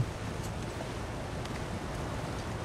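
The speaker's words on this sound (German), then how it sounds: "Oh, der Wind geht so." Steady, broadband wind rushes and hisses without pause in the survival video game The Long Dark, a constant windy roar with no voices over it.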